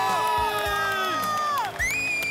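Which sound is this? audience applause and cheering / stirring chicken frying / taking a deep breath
audience applause and cheering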